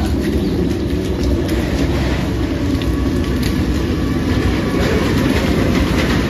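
A train rumbles past close by, loud and continuous, with a steady roar and rhythmic rattling of wagons throughout.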